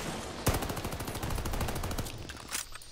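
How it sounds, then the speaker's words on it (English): Sustained submachine gun fire in Call of Duty: Vanguard multiplayer, a fast continuous rattle of shots opening with a sharp crack and running for about two seconds before tapering off, close and loud. "Yeah, this feels like an SMG."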